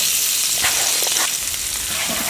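Chopped onions frying in a pan for gravy, a steady close sizzle with brief stirring scrapes and no talking.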